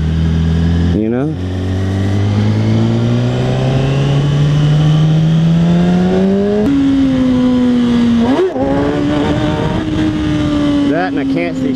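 Motorcycle engine revving hard during night wheelies in cold weather, pitch climbing steadily through the gears with sudden drops and re-revs, loud and close, with a rider speaking at times.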